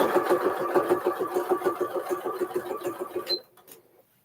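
A sewing machine stitches binding onto a quilted table runner, running fast in a steady rapid rhythm for about three seconds, then stopping abruptly, leaving near silence.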